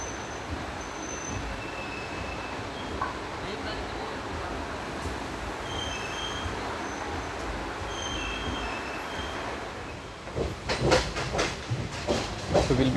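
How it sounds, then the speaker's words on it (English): The 22149 Ernakulam Pune Superfast Express pulls out of Kalyan Junction after a brief halt, heard from inside with a continuous rolling rumble, hiss and intermittent wheel squeal, then louder rhythmic clatter over the last few seconds. "And we have departed from Kalyan Junction after a brief halt."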